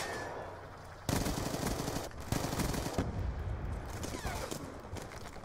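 Call of Duty Black Ops 2 gunfire against veteran bots, bursts of loud rapid automatic shots and fusillades that fill most of the clip, with no talk.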